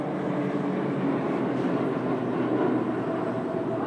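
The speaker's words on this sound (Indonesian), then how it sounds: "Deru mesin pesawat seperti Jupiter Aerobatic Team hingga pesawat tempur F-16 pun memecah langit Jakarta" Jet engines of the Jupiter Aerobatic Team planes and F-16 fighter jets roar over Monas in Jakarta during an Independence Day air show rehearsal, a loud continuous broadband rumble with no speech.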